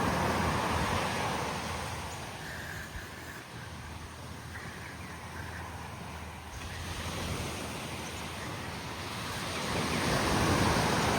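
Steady wash of sea waves breaking along a beach on Jomalig Island, with gusts of wind buffeting the microphone; no voices.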